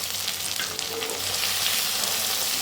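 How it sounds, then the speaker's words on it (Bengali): Onion and tomatoes fry in a pan with a steady, moderately loud sizzle and crackle throughout. Faint stirring scrapes can be heard, and no one speaks. "এখন পেঁয়াজের সঙ্গে এটাকে ভেজে নিচ্ছি"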